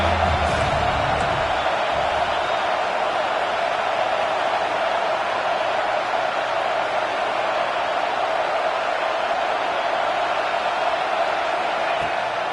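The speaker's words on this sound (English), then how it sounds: "Big third down as the crowd gets behind this defense." A large football stadium crowd roars in a continuous, loud wash of cheering for the defense on a big third down at a Texas versus Ohio State game, steady throughout with no distinct voices.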